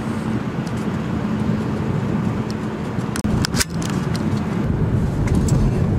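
A car drives along an intercity road near Kassel, giving a steady broadband rumble of tyres and engine from inside the cabin, with a brief clatter midway.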